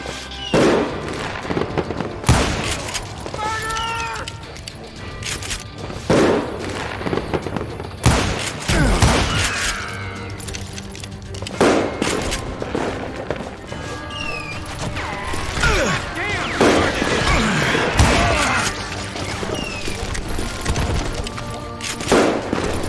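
Repeated bursts of gunfire in the Western shooter game Call of Juarez Gunslinger, sharp cracks and volleys spread irregularly across the clip, mixed with game effects and shouted voices.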